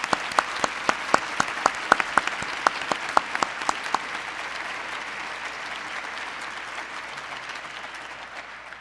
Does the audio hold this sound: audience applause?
yes